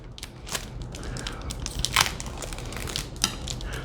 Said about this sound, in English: The most satisfying part of all. Peeling the plastic.